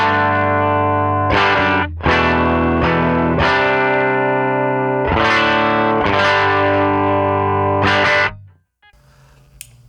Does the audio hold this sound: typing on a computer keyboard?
no